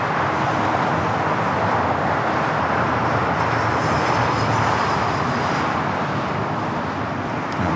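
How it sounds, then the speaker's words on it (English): Qantas Airbus A380 taxiing on the south side at Los Angeles International Airport, a steady broadband jet engine roar that holds loud and even throughout with no pauses. "Now let's head to the Qantas A380 Super now here on the south side, heading to Tom Bradley."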